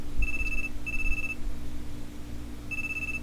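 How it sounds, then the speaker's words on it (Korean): A mobile phone ringtone rings in three steady electronic tones, the first two close together and the third after a pause, clear and near over a low background hum. "그 순간 요란한 벨소리가 울렸다."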